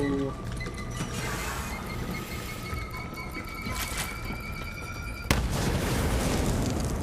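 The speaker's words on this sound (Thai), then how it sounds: "ระเบิดอะไรวะ" A video game explosion in Borderlands 3 bursts as a sharp loud boom near the end, following several seconds of layered game sound and hum.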